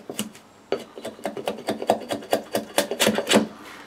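Wood carving stock smoothed down by hand with a rasp or file, a close series of rhythmic scraping strokes about four per second, loud and with no talk.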